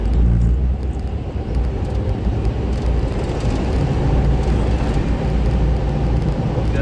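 A 2006 Jeep TJ drives along, its engine and road noise forming a steady, heavy low rumble heard from inside the cabin, with no voices.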